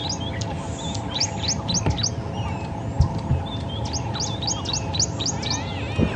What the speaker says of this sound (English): while we're listening to the call of various birds here